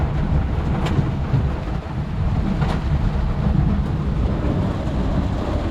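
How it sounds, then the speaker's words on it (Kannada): A heavy downpour in Mudigere roars as a steady, dense hiss with no letup, loud and close, and no voices are heard. "ಸಿಕ್ಕಾಪಟ್ಟೆ ಮಳೆ ನೋಡಿ."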